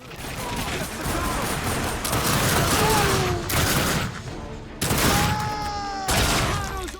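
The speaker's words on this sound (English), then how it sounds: "This is the starting pistol. Listen to how it sounds." Dense, chaotic gunfire from the video game The Darkness 2: rapid shots from the starting pistol blend into a loud, continuous barrage with booming bursts and whining tones.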